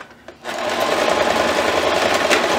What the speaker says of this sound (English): Or you can take it to your sewing machine.